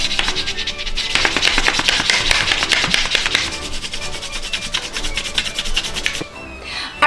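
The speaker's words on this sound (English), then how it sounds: "you're gonna need to color the border of your paper plate" Crayon or marker rubbing briskly around the ridged border of a paper plate, close and loud rapid scratchy strokes that ease off near the end.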